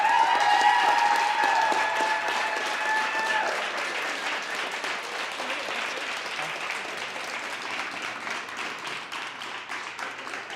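An audience claps for adaptive CrossFit athletes at a live Open announcement, a long, sustained round of applause that is loudest at first and gradually thins, with some voices in the crowd.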